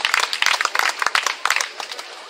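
An outdoor crowd at the inauguration of an Occitan festival applauds, a steady patter of many hands clapping at close range, irregular and lively, fading slightly toward the end.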